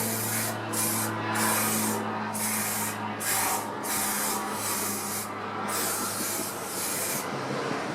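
Varnish sprayed from an aerosol can onto a painting, a steady close hiss running continuously with brief pauses between bursts.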